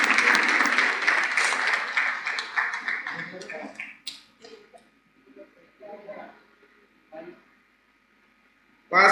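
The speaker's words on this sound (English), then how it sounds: "Big round of applause for him." An audience at a Rotary installation ceremony breaks into loud applause that fades out gradually into scattered claps, followed by a brief burst of clapping at the end.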